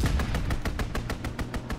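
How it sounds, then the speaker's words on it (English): Rapid bursts of fighter-plane strafing gunfire in a video game, a steady run of about ten evenly spaced loud shots over a low rumble, with no talking. "Strafing the target."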